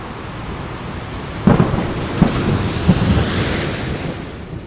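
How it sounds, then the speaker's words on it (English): Thunder in an animated children's scene at the ocean, heard as a series of sharp cracks and rumbling bursts over a roaring, surf-like wash of noise, with no talking. "A great thunderclap followed the pink lightning."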